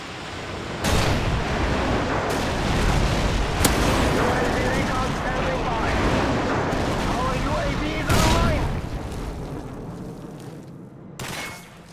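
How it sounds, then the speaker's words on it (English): Airstrike explosions and heavy gunfire in a shooter video game, a sustained barrage of booming blasts with several sharp louder hits, voices briefly heard among the noise. "Friendly airstrike on the way!"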